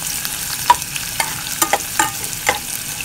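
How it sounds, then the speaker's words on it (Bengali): A small onion, finely chopped, fries in a pan while a spoon stirs it, producing a soft sizzling bed broken by several distinct scraping strokes at irregular intervals, close and clear without any voices. "প্রথমে আমি দিয়ে দিব পেঁয়াজ"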